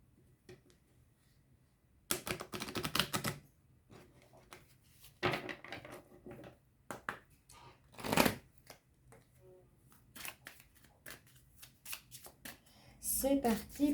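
Petit Lenormand dreamy oracle cards are shuffled by hand in several crisp riffling bursts, separated by quieter pauses and light handling sounds, up close with no talk.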